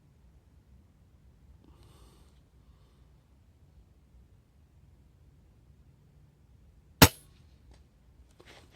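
A single sharp report from an FX Bobcat .30 calibre PCP air rifle fired at a 100-metre target, one crisp crack standing out loudly against near silence, followed by a faint mechanical rattle.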